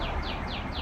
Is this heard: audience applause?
no